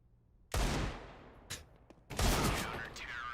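Desert Eagle shots in a Counter-Strike esports match on Mirage, a few sharp, loud single blasts with ringing tails, separated by short pauses.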